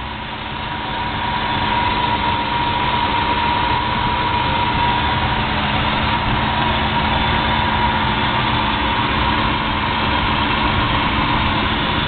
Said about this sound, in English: Listen to the engine run.